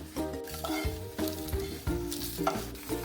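Dry scraping and rustling of a spoon stirring grated coconut in a pan, steady and close, with a faint sizzle underneath and no voices.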